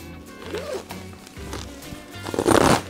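Zipper on an insulated bag inside a get-home bag, pulled open close by in a few short drags, with handling rustle and a louder final pull.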